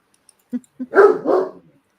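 A dog barks in a short burst from a played recording: two small yips followed by two louder, fuller barks, fairly close and clear against silence.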